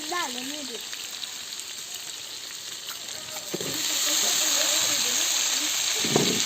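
Brinjal drops into hot oil in a home kitchen and sizzles steadily, with a hissing fry that swells louder toward the end while someone talks briefly over it.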